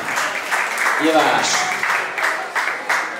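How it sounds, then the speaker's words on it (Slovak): A live audience claps for the dancers Taťanka and Andrejko at a dance floor party, a steady patter of applause that runs under a voice over a loudspeaker. "Zatleskajme im veľkánsky aplauz."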